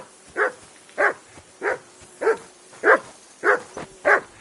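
Dog in Kingdom Come: Deliverance II barking repeatedly, seven evenly spaced close, loud barks in a steady rhythm with nothing else over them.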